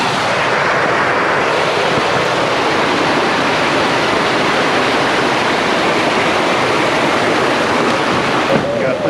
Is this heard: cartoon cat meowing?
no